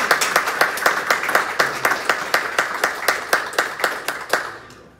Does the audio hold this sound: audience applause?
yes